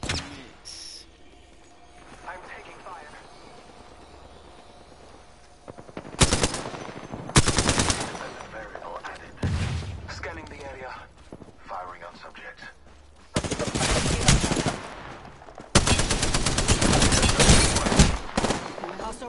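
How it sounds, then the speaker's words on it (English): Automatic gunfire in Apex Legends during a squads match, with loud rapid bursts of shots arriving in several clusters over steady game ambience, the heaviest volleys near the end. "Getting shot at."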